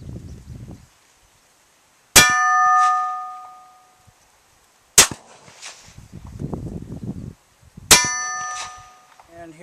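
A 5.45x39mm surplus rifle round strikes an inch-thick steel railroad tie plate at 100 yards; three loud sharp metallic clangs ring out at spaced intervals, each with a bright decaying ring, with faint noise between.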